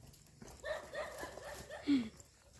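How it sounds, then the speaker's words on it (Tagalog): A dog barks and whimpers a few times at a distance, faint amid outdoor background noise and murmuring voices. "Yan, may aso."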